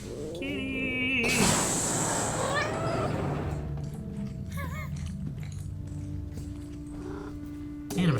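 A cat meows from a scene of the Star Wars series Ahsoka, giving a few short swooping calls mixed with the show's soundtrack and background noise at moderate loudness.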